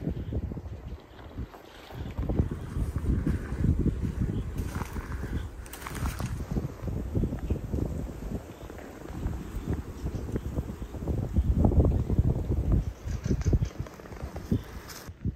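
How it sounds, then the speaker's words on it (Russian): Strong wind roaring steadily into the microphone, a constant low rumbling buffet with surging gusts and no talk. "извиняюсь за ветер, очень ветрено стало"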